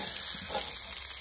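Mixed kebabs sizzle on a Weber kettle charcoal grill with a close, steady crackling hiss, brief and unbroken, with no talking.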